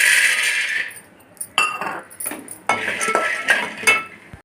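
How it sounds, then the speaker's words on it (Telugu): Peanuts dry roasting in a pot on the stove, heard as bursts of metallic rattling and clinking, close and fairly loud, separated by brief quieter gaps. "ఇప్పుడు స్టవ్ మీద గిన్నె పెట్టి పల్లీలు వేయించుకోవాలి"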